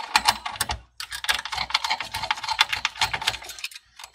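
A screw being undone on an HP TP01 desktop panel gives off a rapid run of small, dry clicks close up, with short gaps between bursts and no talking.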